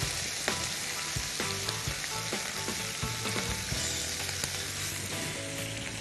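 Mushrooms frying in a pan for a vegan phyllo mushroom tray, giving a steady close sizzle with occasional sharp pops and crackles throughout, no voices.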